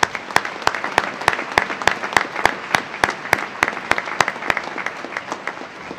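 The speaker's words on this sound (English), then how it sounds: "another round of applause for everyone who has helped" Commencement audience applauding, with sharp claps coming at an even, rapid pace over a steady wash of hands, moderately loud and uninterrupted by speech.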